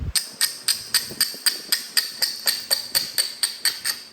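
Hammer stone striking Florida coral while beveling a flintknapping preform, about sixteen sharp evenly spaced ringing taps in a fast steady rhythm, close and loud, no talking.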